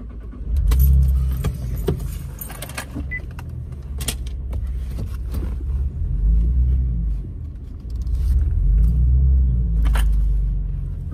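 Car keys jangle in short metallic bursts inside a car being readied after purchase, close and clear over a low engine rumble, with a few brief clicks and knocks around them.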